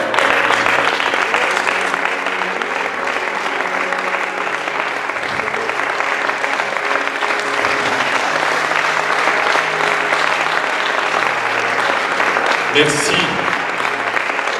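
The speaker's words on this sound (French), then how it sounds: "Merci pour ce soutien, ces applaudissements." An audience applauds at a large gathering, sustained dense clapping that stays loud throughout, with a voice speaking briefly over the ovation near the end.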